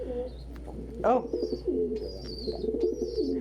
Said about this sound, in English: this is just a confused pigeon being a confused pigeon